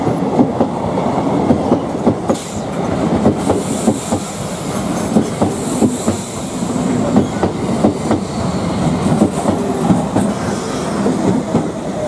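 A train draws into a rural station on the Masagram–Bankura route, rumbling loudly up close with rhythmic clickety-clack of wheels over rail joints and a faint squeal, no voices.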